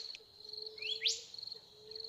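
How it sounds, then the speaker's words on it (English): A recorded bird's song plays in a quiet room during a breathing meditation, with a single bright chirping phrase over a steady high tone and a faint low hum. "just invite the birdsong into the room."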